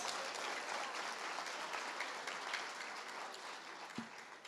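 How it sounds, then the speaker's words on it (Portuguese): A church congregation applauding during a sermon, sustained dense clapping at a moderate distance, fading slightly toward the end with a single thump near the close. "Pode dar uma salva de palmas para Jesus."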